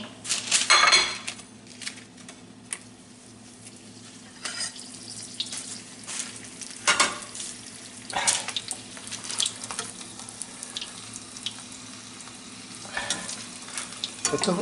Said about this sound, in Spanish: Ahora vamos a echar los pimientos. Los pimientos secos.